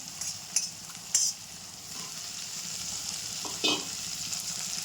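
Okra frying in oil with cumin and asafoetida for a Kathiawadi curry, a soft continuous sizzle under a few sharp spoon scrapes and stirring clinks, close up with no talking.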